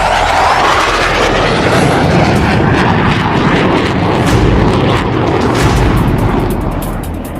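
A fighter jet engine roars loudly and steadily throughout, a dense, continuous rushing blast with no pauses and no talk over it.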